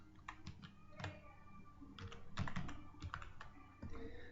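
A file name is typed on a computer keyboard: soft, quiet key clicks arrive in irregular bursts, close up, with no talking.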